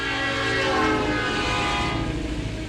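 An N-scale model railroad train runs on a home garage layout, producing a loud, continuous whirring rumble with a tonal horn-like whine that eases off toward the end.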